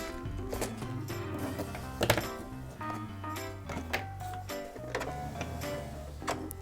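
A sewing machine stitches a seam on a fabric drawstring gift bag, producing rapid mechanical ticking and thumping in short uneven runs, close and moderately loud, without any talking.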